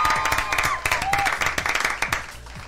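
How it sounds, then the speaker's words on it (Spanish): Loud applause and clapping from an audience at a live acoustic show in a fan-community studio, dense rhythmic claps with a few cheers, steady throughout. "Un aplauso fuerte,"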